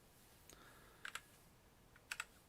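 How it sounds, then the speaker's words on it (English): Quick bursts of typing on a computer keyboard while entering text into a chat, three short clusters of crisp key clicks over faint background hiss, no voices. "Let's type it in the chat."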